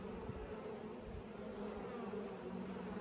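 Honey bees buzz around an open hive headed by an Italian Buckfast queen, a soft, steady droning hum of many insects throughout, close by but fairly quiet.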